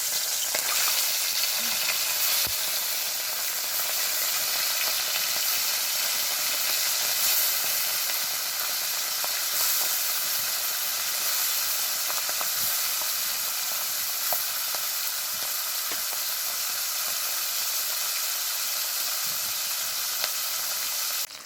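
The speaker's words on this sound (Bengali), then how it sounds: "কড়াইয়ে তেল খুব ভালোভাবে গরম করে নিয়েছি, আর মাছগুলো ভেজে নেব" Fish frying in very hot mustard oil in a wok, a loud, dense, steady sizzle and crackle running unbroken throughout with faint occasional clicks and no talk.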